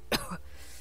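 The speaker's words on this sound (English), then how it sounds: "I heard my grandfather cough," An old man in an audio drama gives a single short, rough cough with a throaty catch, close and clear over a faint background hum.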